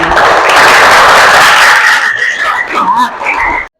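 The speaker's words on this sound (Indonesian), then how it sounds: "Tepuk tangan untuk kita semua." An audience at a teacher training session bursts into loud, dense clapping that holds strong, thins out, and stops abruptly near the end.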